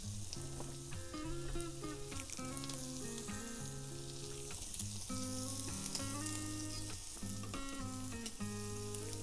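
Thin slices of pork sizzle on a Thai mookata grill pan at a mountain campsite, giving a steady, close frying hiss that runs without a break beneath prominent background music.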